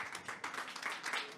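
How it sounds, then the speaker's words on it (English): Brief patter of audience applause at a conference event, a short burst of clapping from a modest crowd heard somewhat distantly and fairly quietly. "A warm round of applause for the director."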